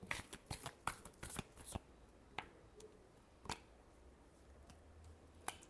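Tarot cards being shuffled close up and quietly, a quick burst of riffling snaps at first, then a few isolated soft card flicks spaced apart with no talk.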